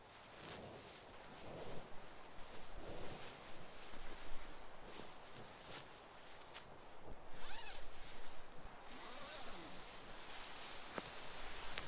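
Zippers on an Onewind 11 ft zippered hammock, close and fairly quiet, with several short zipping pulls and fabric rustles spread across the span, the clearest runs in the latter half.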